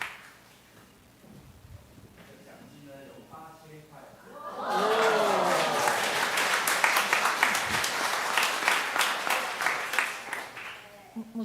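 A congregation at a church service applauds an award winner, a sustained burst of clapping that swells up after a spoken announcement and continues steadily to the end, with some chatter beneath.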